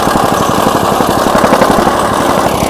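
A plate compactor hammers soil in a trench for an underground electrical panel job, a loud close rapid pounding thud over a droning engine, steady and unbroken with no talking.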